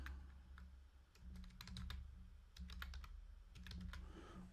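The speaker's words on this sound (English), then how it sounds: "Let's type in Butterfingers." Typing a product name on the keypad of a Nayax credit card reader, a faint run of quick irregular key clicks over a steady low hum, no voices.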